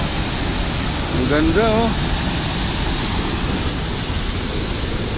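Water roaring over the weir at WeirDam waterfalls, a loud steady broadband rush filling the whole stretch, with a man's brief excited exclamation on top.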